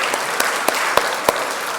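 A church congregation gives a short burst of applause, a few sharp claps standing out over steady clapping, with no talk.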